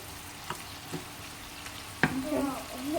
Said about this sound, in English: So frying it will help to cook it slightly.